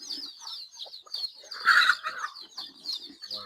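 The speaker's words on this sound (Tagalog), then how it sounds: "Tara samahan niyo ako magbigay ng pagkain ng mga alaga ko." Several chickens cluck and chirp in a busy, overlapping chorus, with a louder burst of squawking partway through and faint rustling in the background.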